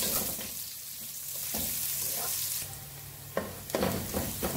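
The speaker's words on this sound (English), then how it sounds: "So, gigisa lang natin yung ating bawang and sibuyas." Garlic and onion sauté together in hot oil in a pan for beef kaldereta, giving a steady close sizzle with a few sharper crackles and stirring scrapes near the end.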